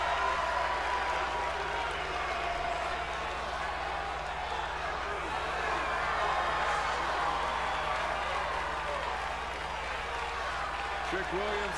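An arena crowd in the WWE 2K23 wrestling game roars and applauds in a continuous, dense wash of cheers behind an announcer talking over it.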